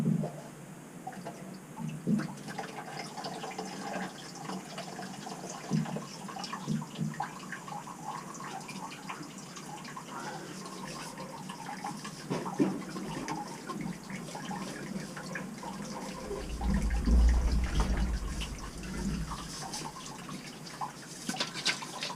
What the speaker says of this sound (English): We're gonna drain off just enough, Bill.